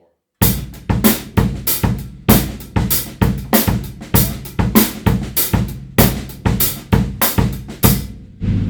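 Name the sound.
drum kit playing three-bar cycle phrase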